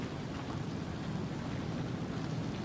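Monsoon rainstorm pouring down in a steady, dense hiss with a low rumbling undertone, loud and unbroken for the whole stretch.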